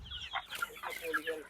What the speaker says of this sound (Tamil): 100 நாள்லேருந்து 120 நாளுக்குள்ள இருக்கிற கோழிகள்.